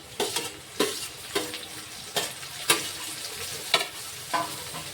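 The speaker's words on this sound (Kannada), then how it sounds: "ಕೊಬ್ಬರಿ ಹಾಕೊಳ್ಕತ್ತೀನಿ ರೀ, ಮತ್ತು ಟೊಮಾಟೊ ಕೂಡ ಹಾಕೋತೀನಿ." Coconut and tomato added to onions frying in a pan, stirred with repeated rhythmic scrapes and soft knocks over a steady close sizzle, no voices.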